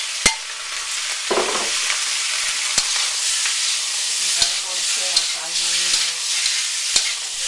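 About a pound of shrimp hits a hot wok for shrimp with lobster sauce, raising a loud, dense hiss that holds steady, marked by sharp clicks of a utensil against the pan and a brief rustle.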